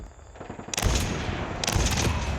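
Rapid automatic gunfire in the mobile shooter game Call of Duty Mobile, two loud bursts of crackling shots close up, the first starting after a few lighter taps.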